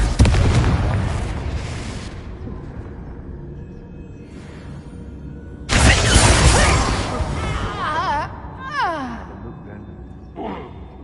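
Confringo blasting-spell explosions in the Hogwarts Legacy video game, with two loud booming blasts, one at the start and one midway, each trailing into a rumbling decay, followed by brief whooshing spell effects.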